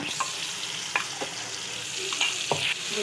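Masala paste of roasted onion, coconut, green chili, coriander and garlic fries in a pan for soybean bhaji, with a close steady sizzle and several sharp spatula scrapes and stirs.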